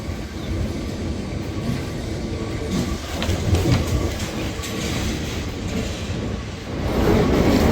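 Lisbon's tram 28 running on its rails, a loud continuous rumble and rattle with clickety-clack bursts as it crosses onto other tracks, growing louder toward the end.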